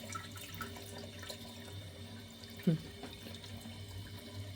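Cold and hot water running from a tap in a newly bought house in Poland, a faint steady stream with one brief clunk midway.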